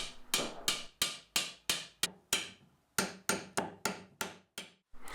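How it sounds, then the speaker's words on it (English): A hammer knocks a brass rod into pallet wood in a steady rhythm, each sharp wooden knock ringing briefly, about a dozen blows with a short pause midway. "the rod can just be very gently threaded through, or whacked 50 times with a hammer"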